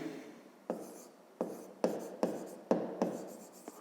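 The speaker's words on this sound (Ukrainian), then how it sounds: "Давайте це запишемо." Handwriting on paper: a series of distinct scratchy pen strokes, about eight in a row, close and fairly quiet, each starting sharply and trailing off.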